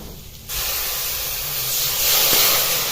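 Water poured into a hot pan of dry tempering masala for a soybean curry sets off a sudden, loud, steady steam hiss that swells slightly toward the end, with no talking.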